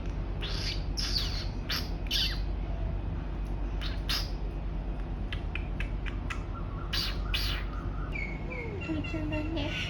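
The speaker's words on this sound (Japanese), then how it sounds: "鳥ちゃんだね。" Birds squawk in repeated sharp bursts over a steady low outdoor hum, with several calls spread through the stretch and a softer chirping sequence near the end.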